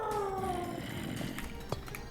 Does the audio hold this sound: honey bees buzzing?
no